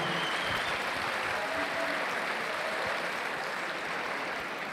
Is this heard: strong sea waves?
no